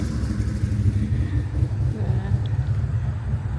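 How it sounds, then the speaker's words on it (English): A car rolls past during the James Dean Festival, a close, continuous low engine rumble that swells and holds with faint street ambience and no talk. "a really cool car coming by"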